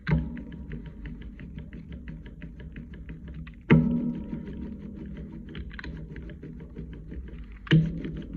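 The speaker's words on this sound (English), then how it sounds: "listening for that smacking sound" An ink roller works across printmaking ink, giving a steady sticky crackling texture with sharper smacking thumps roughly every four seconds, close and quiet.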